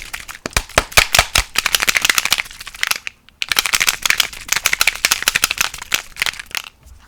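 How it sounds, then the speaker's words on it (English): Rapid, loud rattling of a spray bottle of Distress Spray Stain being shaken hard, in two long bursts separated by a short pause. "we'll give that a good shake as well."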